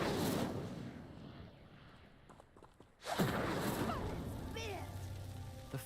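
An Incendio fire spell lights a pyre in a video game: a fairly quiet stretch gives way to a sudden loud whoosh of ignition, followed by a steady, crackling roar of flames.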